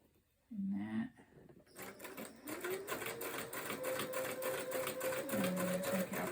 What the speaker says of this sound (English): And then I'm going to do a back stitch and forward a bit.